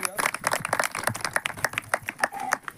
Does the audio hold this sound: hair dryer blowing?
no